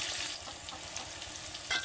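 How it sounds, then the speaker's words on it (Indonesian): Tempeh and tofu fry in hot oil over a wood-fired stove, giving a steady, dense sizzle with occasional louder crackles and pops and no voices. "kita masukkan tempe dan tahunya dulu ya"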